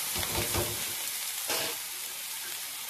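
Dry prawns frying with garlic, onion and chili give a dense, steady sizzle close by, with a few soft stirring scrapes near the start and another around halfway.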